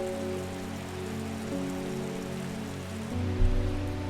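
Rain in the video game Strange Horticulture, a steady hiss of rainfall pattering on surfaces, layered with a low droning hum and a soft thump near the end.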